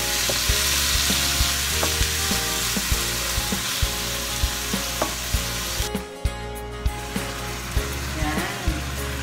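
Marinated pork frying in a pan for menudo, sizzling loudly and continuously up close while a utensil scrapes and taps the pan in a steady series of sharp knocks.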